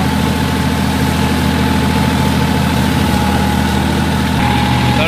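A Massey Ferguson 9500 tractor engine runs steadily in first gear while driving a mulcher, giving a loud, close, continuous droning hum with no breaks.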